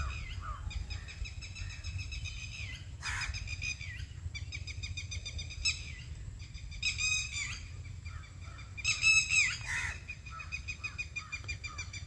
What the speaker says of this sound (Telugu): పక్షులు ఎలా వస్తున్నాయి చూడండి